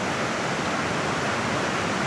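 Water overflowing from Mahalaxmi lake in Peth Vadgaon pours down as a waterfall, a loud, dense, unbroken rushing roar close by.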